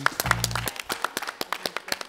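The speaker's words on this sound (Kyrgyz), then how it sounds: "Кол чабуулар." Applause at the finale of a couples' competition show, a scattered burst of individual claps following a low hum at the start, moderately loud and fairly sparse rather than a dense ovation.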